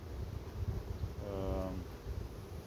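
Honey bees buzzing around a hive colony, a steady droning hum with a brief louder pass of a close bee in the middle, over outdoor wind and leaf rustle.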